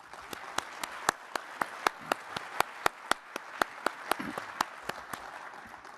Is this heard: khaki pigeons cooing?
no